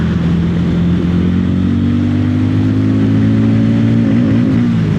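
A Hero Hunk 440 motorcycle on a race track pulls hard through the gears, its engine note climbing steadily to around 6,000 rpm, loud and close with a smooth, continuous rising drone and no voices.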